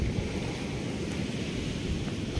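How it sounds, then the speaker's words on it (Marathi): Soft wash of waves on a small sea beach in Konkan, a low continuous surf murmur with some wind buffeting the microphone. "तर असंही छोटासा समुद्र किनारा आहे"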